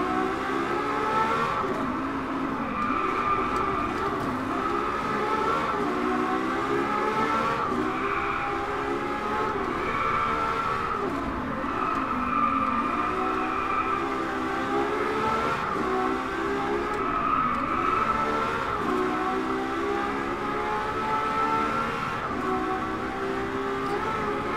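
LaFerrari hypercar engine in the racing game Driveclub, a steady high-pitched howl rising and dipping through gear changes, loud and continuous with no talk.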